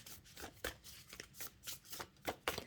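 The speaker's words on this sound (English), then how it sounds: "I do it because you guys like to see the shuffling on the channel" Tarot cards being shuffled by hand, heard as a quick series of close, crisp riffling bursts at an uneven rhythm, with no talking.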